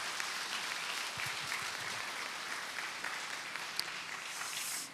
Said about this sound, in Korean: 우리 선교사님 나오실 때 큰 박수로 환영해 주시면 좋겠습니다.